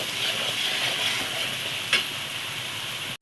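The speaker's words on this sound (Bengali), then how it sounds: "এবার আমি এটাকে ভালো করে নাড়াচাড়া করবো।" Paneer curry being stirred in a pan, with salt just added: a steady hiss of cooking with soft scraping throughout and one sharper clink near the middle, no talking.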